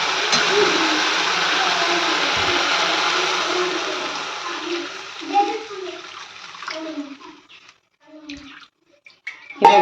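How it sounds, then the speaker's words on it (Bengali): Water gushes in a loud, steady pour onto cooked, fried-down spices in a pan for fish curry, the rushing fading after a few seconds into quieter bubbling and scattered household noises. "জলটা দিয়ে দিলাম"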